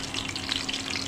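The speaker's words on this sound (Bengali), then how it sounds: "তেল দিয়ে এখন রসুন কুচি দিয়ে দিই" Chopped garlic frying in hot oil in a pan, a steady dense sizzle and crackle with no pauses, close and even throughout.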